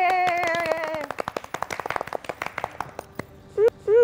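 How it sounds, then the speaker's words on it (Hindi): Studio audience clapping on a Hindi TV chat show, a scattered run of claps that starts after a brief sustained tonal passage and fades into a few tones near the end. "तालियां हमारी फिल्म इंडस्ट्री के लिए।"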